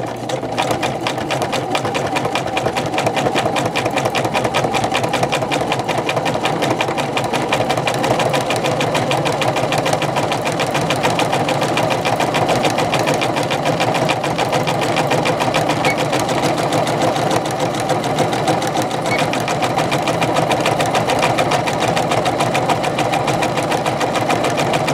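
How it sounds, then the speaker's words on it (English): A sewing machine stitches a women's button-down shirt, running in one close, loud, steady burst of rapid needle clatter that holds an even pace for the whole stretch, with no voices. "Making sure you've set the machine now for the intended stitch."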